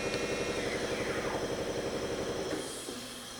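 An air compressor running in a machine shop beside a Matsuura four-axis vertical machining center, giving a steady, rhythmic chugging drone with a high whine that eases off slightly in the last second.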